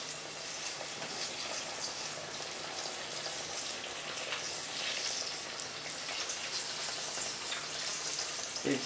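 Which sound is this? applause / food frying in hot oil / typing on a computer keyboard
food frying in hot oil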